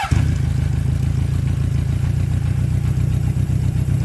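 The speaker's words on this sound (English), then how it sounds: "But let's fire it back up for you." A vintage 1977 Honda CB750A Hondamatic motorcycle engine runs loud and close, a steady low throbbing idle with slight rhythmic pulsing throughout, no talking over it.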